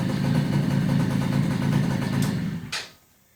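A small petrol engine with a carburetor, warmed up to operating temperature, idles with a steady close rumble, then is switched off, ending in a brief click and quick die-down to near silence.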